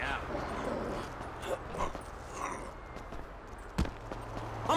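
A dog barking and whimpering in the video game Grand Theft Auto V, short barks and yips scattered under game voices talking, moderately close.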